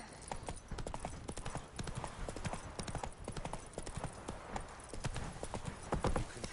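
Roach, a horse in The Witcher 3 video game, trots with a quick, even clip-clop of hooves on hard ground, fairly quiet and continuous, with a faint voice at the start.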